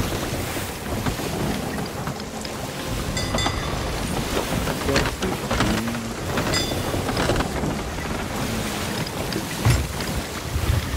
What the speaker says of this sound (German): Alter, der Sturm verfolgt uns doch,